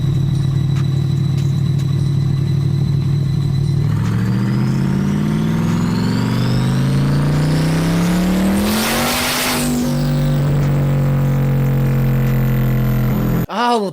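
A car engine roars through a dyno power pull, revving steadily higher, easing briefly at a shift, then climbing again, very loud and close before cutting off abruptly at the end.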